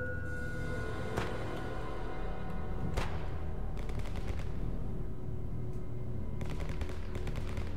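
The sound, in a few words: gunfire from the video game Stalker Anomaly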